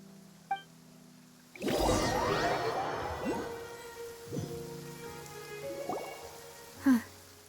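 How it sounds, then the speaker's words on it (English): Steady rain falls in the video game Genshin Impact, a constant hiss with scattered swishes and a few chime-like game effects layered over it. "It's been raining non-stop for a few days now."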